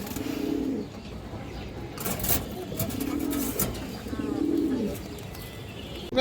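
Indian high flyer pigeons coo close by in several low, rolling phrases with short gaps between them, with faint chirps and background rustle.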